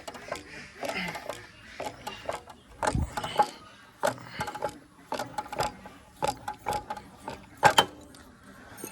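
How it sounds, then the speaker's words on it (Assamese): A ratchet spanner works a stuck nut on a CT 100 bike, giving repeated close metallic clicks and clanks in irregular bursts, with occasional scraping between strokes. "এই নটটো উঠনিৰ পৰা খুলিবলৈ চেষ্টা কৰি আছোঁ"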